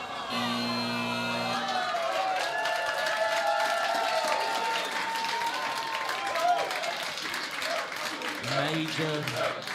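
Crowd cheering and applauding at a robot fighting match during the Robot Rampage World Cup finals, a broad roar of voices and clapping under overlapping commentary, with a tonal signal at the start.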